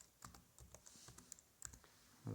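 Keys on a computer keyboard typed in short irregular bursts of clicks, close and fairly quiet, as a Python command is entered on a Raspberry Pi setup, ending with a firmer keystroke.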